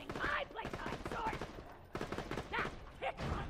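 Rapid-fire pistol in Borderlands 2 firing quick bursts of shots, faint and mixed under someone talking.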